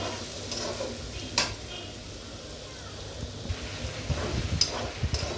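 A bay leaf and whole garam masala frying in hot oil for a chicken and potato curry, with a steady close sizzle and occasional spatula stirs and scrapes.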